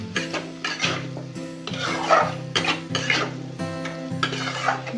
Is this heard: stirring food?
yes